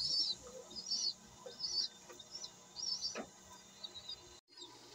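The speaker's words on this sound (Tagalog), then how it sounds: "Ang ibon natin po na si Musaik." A pet pigeon gives a series of short, faint chirping calls in quick irregular bursts, heard alone with a soft background hum and no talking.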